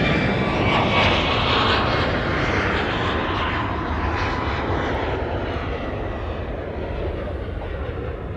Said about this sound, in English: So that was a Cessna Sky Courier.